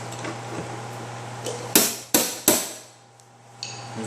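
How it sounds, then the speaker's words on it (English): Three sharp metallic hammer taps in quick succession on a 2013 Hyundai Elantra quarter panel during repair ring out close by, each decaying briefly, over a steady low hum. "Then I'll tap the crown in while I hold some pressure on it."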